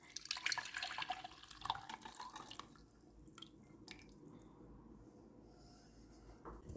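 Ashwagandha tea poured through a sieve into a Pyrex dish: a brief close trickle and splash of liquid at the start that tapers away into faint drips and quiet room background.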